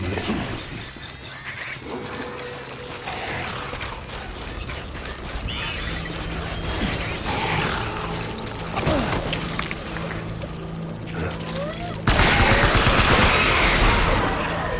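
Gunfire in the Death Stranding video game, scattered shots and rattling bursts over a busy background of mechanical and crashing effects, growing louder toward the end.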